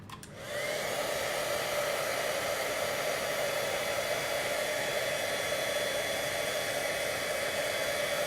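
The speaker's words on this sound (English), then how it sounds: "so now I'm gonna bring in my heat tool" A heat tool blows a steady, loud, airy roar that starts abruptly after a brief click and runs unbroken as it melts embossing powder on a watercolour card.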